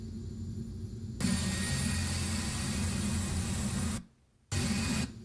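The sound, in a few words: King Air 200 airplane in FSX flight simulator video game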